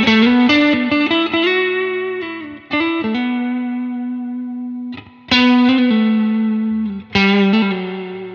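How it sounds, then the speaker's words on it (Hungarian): Electric guitar played through a Universal Audio pedal's Fender amp simulation, ringing out a series of clean, sustained notes and chords with short gaps between phrases, close and loud with no talking. "Hát ez egy Fender hang."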